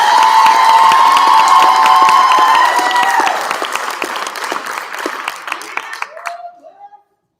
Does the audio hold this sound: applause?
yes